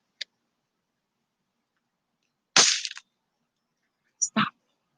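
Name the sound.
firecrackers popping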